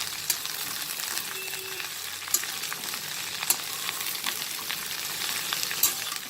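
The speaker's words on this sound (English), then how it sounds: "the lady's finger, that's the okra. And I will saute it now." Okra (lady's finger) sautéing in a pan for bhindi bhujia, a steady broadband sizzle with a few sharp clicks of stirring scattered across it, close and alone without talk.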